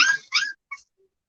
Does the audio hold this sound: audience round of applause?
no